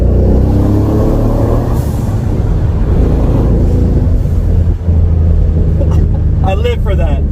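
A truck rumbles along steadily with a loud, continuous low engine drone, a brief dip suggesting a gear shift midway, and a voice talking near the end over the engine.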